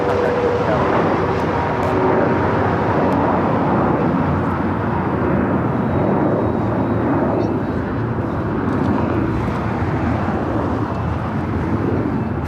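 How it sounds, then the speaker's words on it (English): A Boeing 787-9 Dreamliner on its takeoff roll from the north side at LAX, bound for Tokyo Haneda, a loud, steady jet roar that stays broad and sustained at a distance with no pauses. "First takeoff on the north side on the Pod Airways flight 125, heading back to Tokyo Haneda, 787-9 Dreamliner"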